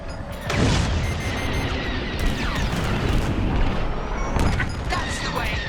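A space dogfight in Star Wars: Squadrons roars with dense, loud blaster fire and explosions, a continuous rumbling wash cut by sharper bursts near the start and end, with voices talking over the combat.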